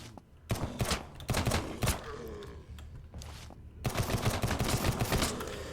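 Pistol gunshots in the SurrounDead zombie survival game, a series of loud, sharp single shots fired in irregular clusters with brief pauses, then a denser run of shots toward the end.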